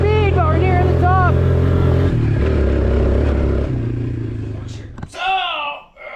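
A long-stored Suzuki Ozark ATV engine runs at full throttle with a steady low drone that gradually fades over several seconds, while people talk over it.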